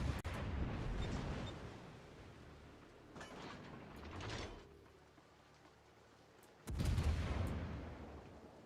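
Warship guns fire in the naval video game World of Warships, with rumbling booms in several bursts separated by quieter gaps and a loud salvo near the end.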